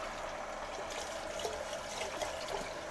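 Water pours into a cooking pot to measure it for boiling rice in a home kitchen, a steady trickling splash running continuously at moderate level.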